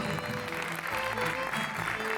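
A ceremony audience in Adra applauds at a commemorative presentation, steady clapping filling the whole short stretch at moderate volume, with a faint voice underneath.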